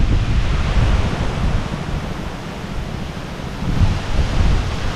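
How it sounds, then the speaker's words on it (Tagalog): Strong wind blowing outdoors during a storm, a steady loud roaring rush with gusts swelling and easing, no talk heard. "Grabe, lakas ang hangin."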